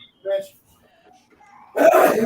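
A single sharp sneeze bursts out at the end, near and fairly loud, after a brief faint vocal sound and a quiet pause.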